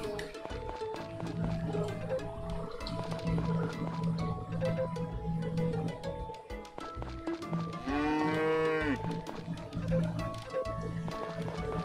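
A cow moos once in a rising drawn-out call in the Story of Seasons: Friends of Mineral Town video game, set over continuous background game music and ambient sound.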